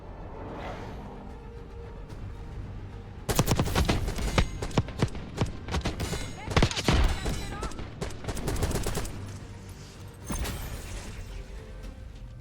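Gunfire in the video game Call of Duty Black Ops 6, with rapid bursts of close, loud shots and clattering impacts that come in clustered volleys after a quieter opening.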